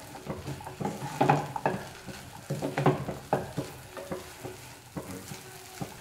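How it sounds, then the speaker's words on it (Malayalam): Upma being stirred in a pan with butter melting into it, giving repeated scraping strokes of a spoon in an uneven rhythm over a soft sizzle, close and moderately loud with no voices. "അതുവരെ നമുക്കൊന്ന് മിക്സ് ചെയ്തെടുക്കാം"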